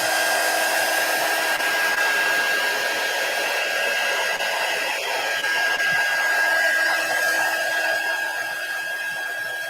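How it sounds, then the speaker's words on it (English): A heat gun blows a constant, loud, airy whoosh over mousse on mixed media fabric in a craft session, holding steady for the whole stretch with a faint whine running through it. "I'm gonna hit the mousse with the heat gun for a second."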